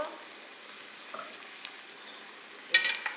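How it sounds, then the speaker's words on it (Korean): Pork simmers in a pan of soy sauce and corn syrup glaze as it is rolled around. The sizzle is quiet and steady, with a few light utensil clicks toward the end. "고기를 해서 둥글둥글 굴려서 좀 졸여줄게요"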